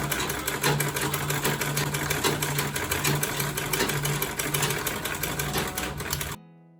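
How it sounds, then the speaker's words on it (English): A sewing machine stitches quilting lines across a tote bag, a steady close whirring run with a regular needle rhythm, joined by background music, before stopping abruptly near the end. "I'm going to take this to the machine now and sew on these lines"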